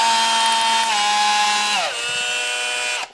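Cordless power drill spinning a half-inch bit on a 1996 Ford F350 two-wheel-drive to four-wheel-drive swap, a loud, close whine that steps down in pitch twice under load before stopping.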